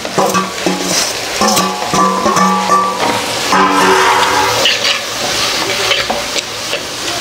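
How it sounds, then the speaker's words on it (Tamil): Onion and tomato sauté in a pan for a non-veg gravy, a loud, steady close sizzle broken by rhythmic stirring scrapes and clinks throughout, with no voices. "வெங்காயம் தக்காளி வந்து வதங்கிருச்சு."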